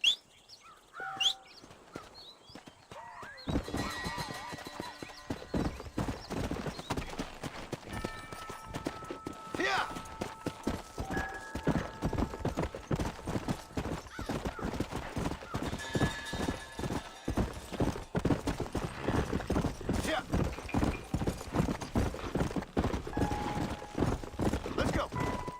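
Horse hooves clip-clopping steadily in the Western video game Red Dead Redemption, a continuous brisk rhythm of hoofbeats with speech heard over it.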